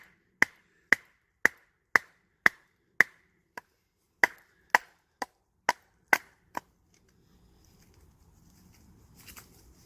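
Survival knife chopping into a hard, difficult piece of timber: about twelve sharp, evenly spaced woody knocks, close and loud, then the strikes stop and only faint rustling remains.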